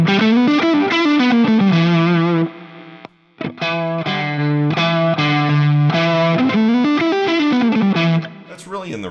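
Electric guitar through the Mr. Fuzz effect block on a Fractal FM3, with a 1959SLP treble Plexi Marshall amp model. Thick, buzzing fuzz chords ring out continuously, with a short gap partway through.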